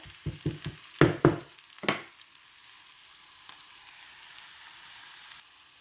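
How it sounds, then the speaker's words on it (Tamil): Curry leaves and onion are stirred in a pan for a brinjal curry, with a quick run of clattering spoon scrapes and sizzle bursts up front. The frying then fades to a quiet, steady hiss. "இதையும் போட்டு கிளறி விடுவோம் இன்னும் கொஞ்சம் வதங்கணும் இந்த வெங்காயம்"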